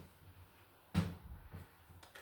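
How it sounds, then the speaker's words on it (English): A door is pulled shut indoors, one short close thump standing out from a quiet room, followed by a few faint knocks and rustles. "Let me close this door."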